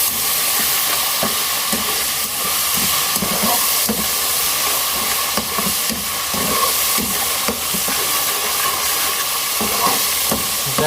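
Garlic ginger paste being stirred into browned onions in a hot pan, with repeated scraping strokes of the spoon over a steady sizzle and hiss, loud and close.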